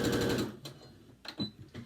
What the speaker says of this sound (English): So I'm just going to sew these open.